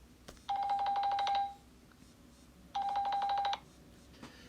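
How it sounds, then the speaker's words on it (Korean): A mobile phone rings during a criminal procedure law lecture: two bursts of an electronic ringtone, each about a second long with a steady tone and rapid pulsing, separated by a short pause, close and clear over a quiet room. "잠시 전화가 울렸는데요"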